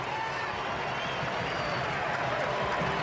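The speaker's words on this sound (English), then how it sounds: "The German faithful in the crowd erupt." German fans in a stadium crowd roar in a dense, steady wash of cheering after a goal at an international friendly football match, heard from within the crowd.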